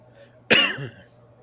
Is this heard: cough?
yes